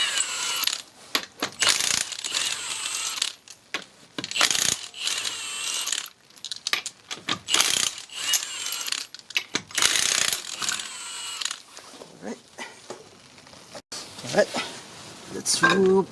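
A ratchet with a 21mm socket works loose the rear brake drum bolt on a 1996 Toyota Camry: close, repeated bursts of sharp clicking, stopping and starting unevenly.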